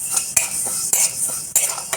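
Mustard seeds and carom seeds fry in a pan for a homestyle chilli pickle, with a soft sizzle under sharp metal scraping and clinks from a spoon stirring at regular intervals.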